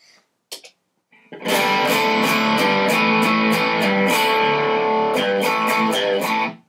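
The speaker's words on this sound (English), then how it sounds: "I'm going to do some tones with the overdrive on so you can hear the difference" An electric guitar played through an overdrive pedal, a few muted pick scrapes and then sustained distorted chords with rhythmic strummed accents, loud and close, ending in a ringing chord.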